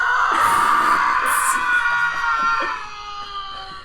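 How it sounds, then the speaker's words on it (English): Man screaming sound effect: a long, loud, sustained high-pitched scream that gradually fades over a few seconds, heard alone. "Man screaming sound effect."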